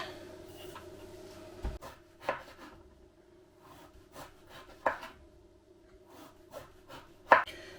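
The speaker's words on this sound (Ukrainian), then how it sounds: "Гарбуз вам потрібно почистити від шкірочки" A pumpkin being peeled of its skin with a knife, giving sparse, quiet scraping and cutting strokes separated by pauses, close by in a hushed kitchen.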